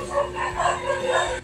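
A dog barks in a short rhythmic series of yips at night in a Philippine coastal village, mid-distance and fairly clear over a low steady hum.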